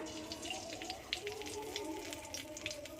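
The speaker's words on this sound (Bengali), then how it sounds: "এবার আমি ফোড়নটা দিয়ে দেব এখানে দুটো তেজপাতা" Whole spices and bay leaves crackle and sizzle in hot oil in a home kitchen, with a quiet, steady frying hiss dotted by small pops.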